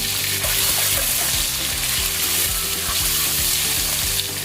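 Boiled eggs seasoned with salt and turmeric are frying in a pan to golden brown. The sizzle is loud, continuous and close, with a low hum running underneath.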